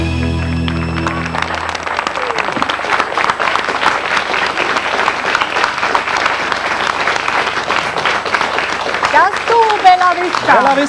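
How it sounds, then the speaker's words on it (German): Audience applause follows a schlager band's song on stage, loud, dense clapping that continues steadily, with a voice speaking over it near the end. "Euer Applaus"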